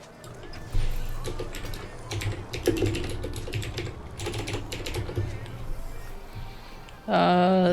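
Rapid clattering keystrokes on a computer keyboard during a League of Legends Teamfight Tactics game session, continuing for several seconds with game sounds around them, before a louder tonal game effect cuts in at the end.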